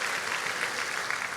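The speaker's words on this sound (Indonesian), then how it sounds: "Beri tepuk tangan yang meriah buat Tuhan." Church congregation applauding during a sermon, a steady dense wash of clapping filling the room at moderate level without pause.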